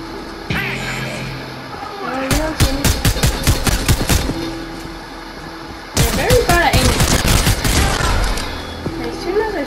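Rapid bursts of automatic gunfire in a video game, loud and close, in two main volleys over a constant background hum.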